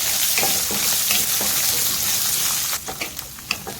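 Shallots sizzling in hot oil alongside chillies in a pan while making Kerala pappadam curry, a loud continuous hiss that thins out near the end into scattered crackles and pops.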